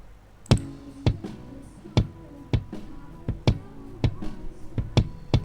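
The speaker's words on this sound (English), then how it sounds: "So this is how the kick sound without any plugins." Dry, unprocessed kick drum thumping in a steady beat, about ten hits, with faint snare bleed and room noise between strikes.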